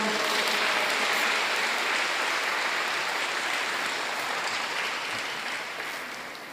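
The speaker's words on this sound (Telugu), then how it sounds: "గట్టిగా చప్పట్లు కొడదాం." Congregation at a Telugu church gathering clapping loudly together, a dense, steady wash of applause that fades slightly toward the end, with no talking.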